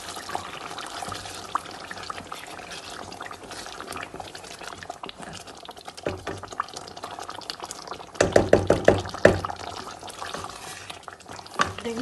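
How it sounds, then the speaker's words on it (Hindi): Whisked yogurt goes into a mutton kofta masala and is fried, giving a continuous wet bubbling sizzle. A cluster of louder stirring and scraping knocks comes near the end. "इसके अंदर हम लोग डालेंगे अपनी जो दही थी जो हम लोगों ने फेंट के रखनी थी उसको, और इसको मज़ीद भूनेंगे"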